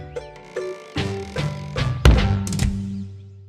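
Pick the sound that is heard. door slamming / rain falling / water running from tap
door slamming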